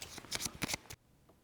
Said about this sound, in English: giving them a shuffle